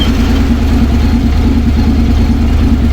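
A Honda X-ADV 750 motorcycle engine idling up close after being switched on, a loud, steady low rumble with an even pulsing throb throughout and no talking.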